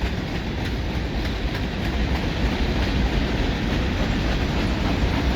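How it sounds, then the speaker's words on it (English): CN mixed freight train with CSX hopper cars rolling past close by, a loud, steady rumble and wheel roar with faint clickety-clack, continuous and alone. "Well, CSX, look at that. CSX hoppers."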